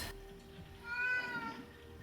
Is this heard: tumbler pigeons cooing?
no